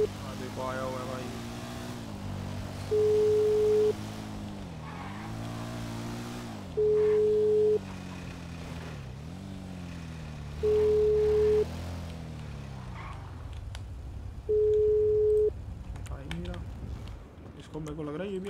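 An unanswered phone call rings out in a house-robbery roleplay game as four evenly spaced ringback tones, about four seconds apart, sound over a low engine hum while someone talks.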